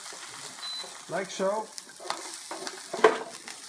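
Fried veal shin bones with bits of meat and onion, browned in butter in a steel pan, are tipped and scraped into a stock pot, giving a close sizzle with a few knocks and clatters, one sharp, and a brief spoken remark.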